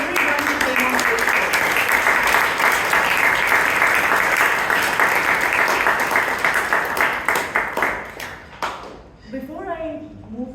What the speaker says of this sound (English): can we once again have a big round of applause for everyone who came on stage?